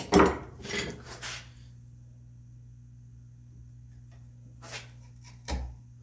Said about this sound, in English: Now I'm just going to take it and go for a wider chisel.